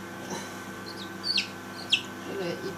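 A newly hatched chick peeps in short, high cheeps, three or four distinct chirps scattered over a few seconds against a steady background hum, close and fairly clear.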